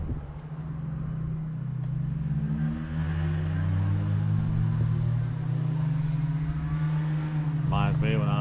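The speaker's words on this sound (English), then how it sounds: "Got that 4-cylinder wound up tight" A four-cylinder boat engine wound up high, a loud steady droning whine holding pitch with slight wavering, close by on the lake, with a brief voice near the end.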